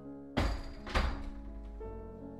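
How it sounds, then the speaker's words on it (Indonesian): A wooden plank door is shoved open with a shoulder, giving two heavy close thumps a half-second apart followed by a lingering low rumble. "Dengan perasaan yang meluap-luap, Benny mendorong pintu papan itu dengan sisi samping badannya."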